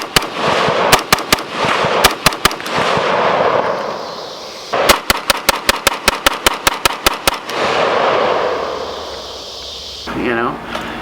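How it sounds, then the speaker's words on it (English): A Spanish CETME LC rifle fires outdoors in quick strings of loud, sharp shots, several spaced groups and then a fast run of about a dozen, with someone talking between the bursts. "There's a few shots you'll see where I do, you know, like 3 rounds real quick"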